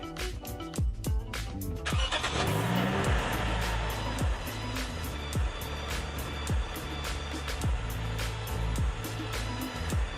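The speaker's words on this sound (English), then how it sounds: "I'm going to start the car so you guys can see them" A car engine cranks and catches, then settles into a loud, steady idle with a rough, pulsing rumble close by.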